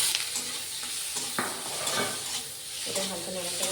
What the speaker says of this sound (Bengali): অল্প করে একটু নাড়াচাড়া করে নেবো